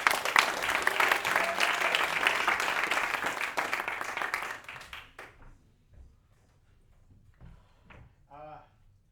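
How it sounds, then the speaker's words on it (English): A loud, dense round of applause fills the first half, then fades out, leaving near silence with a few faint knocks and a brief voice. "after a warm round of applause"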